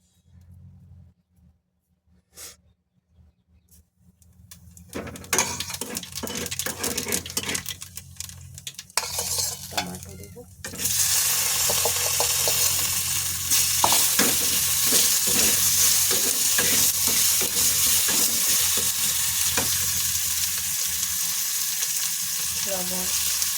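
Nigella seeds go into hot oil with eggs for tempering and set off a sudden loud, crackling fry sizzle that swells and holds steady, preceded by a few quiet clinks and stirring sounds in the pan.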